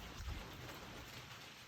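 Faint, steady rain patters continuously outdoors, with a brief low thunder rumble near the start and no talk.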